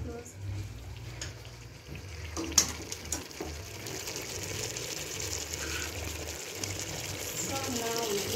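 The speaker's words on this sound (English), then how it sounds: "So now we need to add some water." Water pours into a hot pot for Ugandan-style pilau, giving a steady gushing sizzle with a few clinks, while people talk over it.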